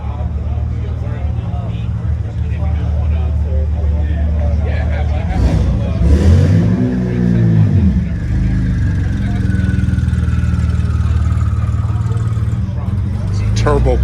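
A turbo Porsche drives by with a deep engine rumble that swells and fades, heard outdoors near a shopping area under steady background noise, with a person talking nearby.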